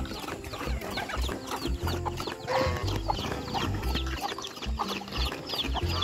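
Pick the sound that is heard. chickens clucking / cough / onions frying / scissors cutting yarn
chickens clucking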